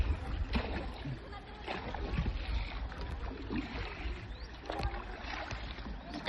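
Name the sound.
paddling a boat through water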